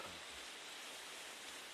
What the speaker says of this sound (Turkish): Böyle bir şelale.